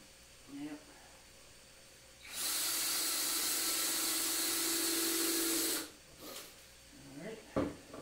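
A power driver sinks a number 8 screw into wood in one steady whirring run of about three seconds, close and loud, with quieter handling noises and a voice before and after.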